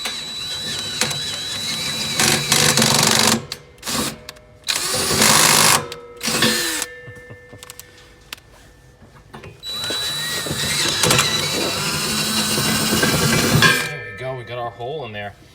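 Cordless drill boring a hole through steel in bursts, whining runs broken by pauses, clanks and ratcheting clicks, close and fairly loud.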